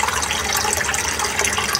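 Water pours steadily into a pot around a plastic-wrapped banana cooking setup, making a loud, continuous splashing gush that lasts the whole moment without any talking.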